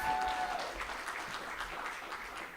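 Applause from an audience at an annual meeting honoring a North Omaha native, a steady wash of many hands clapping at moderate level for a couple of seconds, with a faint voice briefly under it.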